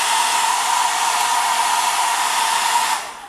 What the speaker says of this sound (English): you could hit them with a hairdryer